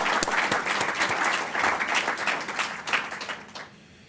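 An audience at a Heart Foundation oration in Canberra gives a round of applause, with crisp close claps over a thick crowd layer that swells, then dies away abruptly near the end.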